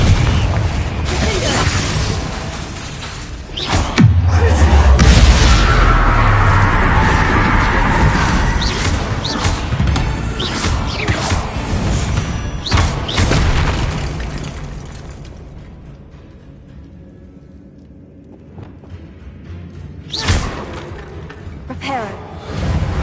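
Repeated Confringo blasting-spell explosions in Hogwarts Legacy, with loud booming bursts and rumbling crashes over continuous game music and effects, a heavy blast near the start and another later after a quieter stretch.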